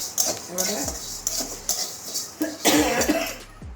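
Red lentils being tipped from a hot pan into a bowl on a stove, with several clinks and scrapes of metal utensils against cookware, close by, and a brief cough partway through.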